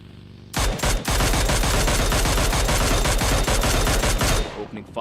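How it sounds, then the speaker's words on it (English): Heavy automatic gunfire in PUBG Mobile during a Royal Rebel grand finals match: a dense, loud burst of rapid shots that starts abruptly, runs for about four seconds and then cuts off, with no voices over it. "Opening fire."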